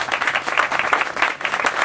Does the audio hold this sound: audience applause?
yes